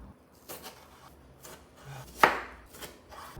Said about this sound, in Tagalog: Mas maraming hiwa yung gagawin ko sa kanya.